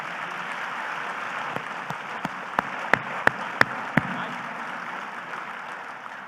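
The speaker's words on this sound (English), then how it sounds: "Can you give them a round of applause, please?" An audience at the 2025 West Palm Beach State of the City Address breaks into steady, dense applause that fills the room for several seconds, with a handful of sharper individual claps ringing out near the end.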